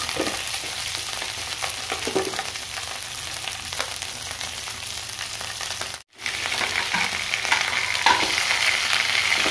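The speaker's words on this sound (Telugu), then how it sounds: "ఇట్లా మిరపకాయలు చేసి సరిపడా చింతపండు, ఎల్లిపాయలు, ఓమాకు ఇవన్నీ ఇట్లా కొంచెం నూనెలో వేయించుకోవాలి." Green chillies frying in hot oil with a steady close sizzle and occasional stirring, the crackle briefly cutting out before resuming, no speech.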